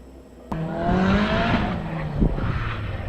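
A race car engine bursts in suddenly and roars nearby during a gymkhana test at Killarney International Raceway, its pitch climbing with a whining turbo note before a sharp pop.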